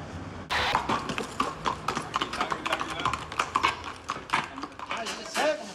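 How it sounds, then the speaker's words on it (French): A horse's hooves clip-clop steadily and close by as it is led in somewhere in Spain, with people talking over the uneven clatter. "Vous rentrez le cheval ici? Oui, on le fait entrer."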